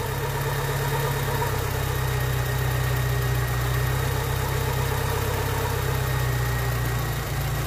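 A 30-year-old engine in a Volkswagen Polo 86C idles up close, a constant low drone with a slight pulsing wobble and no speech over it.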